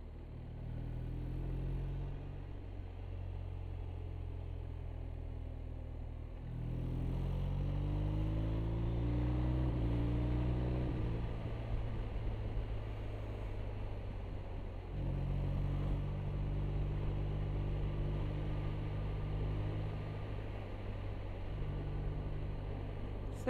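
A BMW motorcycle rides along a small road, its engine a steady low drone mixed with wind rush. The pitch shifts around gear changes near 6 and 15 seconds, with no voices.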